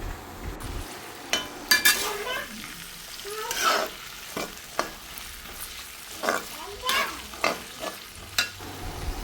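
Garlic cloves with about two spoons of salt being sautéed for garlic pickle: a soft sizzle under repeated spatula stirs and scrapes, with metallic clinks against the pan, close and intermittent.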